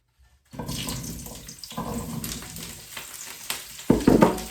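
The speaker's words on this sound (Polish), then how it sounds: "Fajnie skwierczy" Steady frying sizzle and crackle of Brussels sprouts in a frying pan, continuous and fairly close, growing louder with bursts near the end; no voices.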